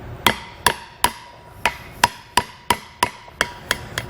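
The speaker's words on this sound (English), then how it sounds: "give it a few taps, kind of check, feel where it needs to go down, and move the socket and hammer accordingly" A hammer taps a socket against a trailer disc brake part from a Kodiak kit, eleven sharp metallic knocks at a fairly even pace, close and clear with no talk.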